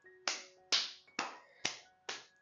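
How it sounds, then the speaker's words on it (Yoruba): Five sharp, evenly spaced hand claps sound close and crisp, each with a short decay and brief pauses between them, in a quiet room with no voices. "ẹ gbìyànjú ẹ bá mi ṣàwọn ní àtẹ́wọ́."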